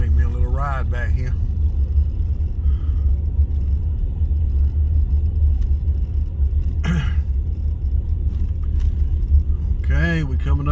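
A car driving along a rural road in Lakeland, Florida, with a steady low engine rumble and road noise throughout, while someone talks intermittently over it from inside.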